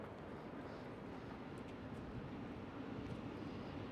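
Emirates SkyCargo freighter taxiing at Amsterdam Schiphol airport, a steady broadband jet engine rumble and roar held at even loudness throughout, with no voices.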